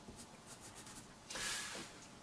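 A pencil scratches across paper while sketching the curved lines of a swimming inner tube, several faint short strokes followed by one louder, longer stroke, close and quiet with no talking.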